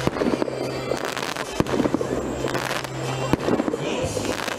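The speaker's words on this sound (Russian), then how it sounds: "Самым ярким моментом праздника стал красочный фейерверк." Fireworks bursting over an outdoor New Year celebration, a steady barrage of crackling pops with several sharp louder bangs standing out, loud and continuous throughout.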